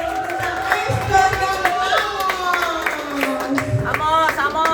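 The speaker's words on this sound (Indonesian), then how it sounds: "berikan tepuk tangan yang paling meriah buat calon kita Esther" Church audience clapping for a child at a Christmas service, rapid claps mixed with crowd noise under a loud, continuous voice that carries over the whole stretch.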